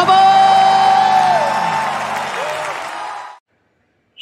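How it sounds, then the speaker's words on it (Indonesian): Church congregation cheering and shouting praise to God during an online service: a loud swell of voices, whoops and yells that fades over about three seconds, then silence. "Lebih lagi sorak-sorak kemuliaan yang luar biasa buat Allah kita."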